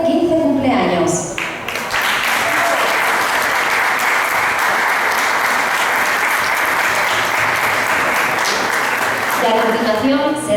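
A large audience at a year-end school festival claps in sustained, dense applause that holds steady for several seconds; a voice speaks briefly over it at the start and again as it fades at the end.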